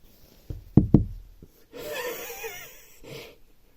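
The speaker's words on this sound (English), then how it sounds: "I can hear them knocking." A few hollow knocks on a narrowboat hull, two strong ones close together, then a wheezy, breathy exhale from an animal.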